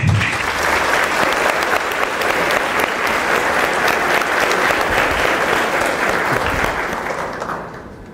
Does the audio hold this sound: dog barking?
no